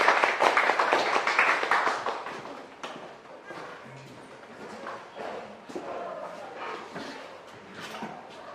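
An audience bursts into loud, dense applause for speaker John Greenman at a GIC talk. The clapping lasts about three seconds, then thins into scattered claps and room noise.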